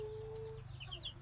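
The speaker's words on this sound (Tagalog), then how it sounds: "Kakainis talaga itong manok na to ay." A chicken clucks in short, scattered calls over a steady low hum at a home kitchen, with a sustained tone fading out partway through.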